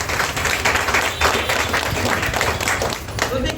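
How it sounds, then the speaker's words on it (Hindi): An audience claps loudly for a speaker arriving at a talk, sustained dense applause from a crowd filling the whole stretch with little change in level. "सर जी के लिए ज़बरदस्त ताली होनी चाहिए"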